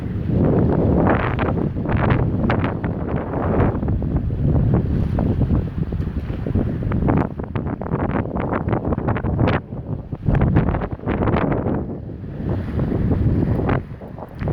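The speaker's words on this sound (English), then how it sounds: "might be a bit windy" Loud, gusty wind blasts across the microphone throughout at Bremer Bay, a constant low roar with fluctuating bursts and no voices.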